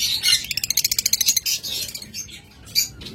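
Blue Fischer's lovebirds chirp in rapid, rhythmic bursts of shrill high tweets, close and loud, with a brief pause and a final flurry of calls.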